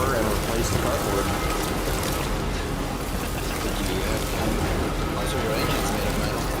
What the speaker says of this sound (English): Yeah, it started raining.